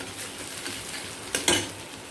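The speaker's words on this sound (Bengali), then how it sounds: "পেঁয়াজটা একটু ভাজা হোক, তারপরে মশলাগুলো দেব" Onion sizzles and fries in a pan while being stirred, a steady hiss with a few sharp scraping stir strokes near the end, no talking.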